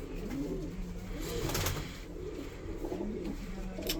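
Andijan pigeons, an Uzbek breed, coo in low, steady, soft rolling calls that run throughout, with faint background noise and no talking.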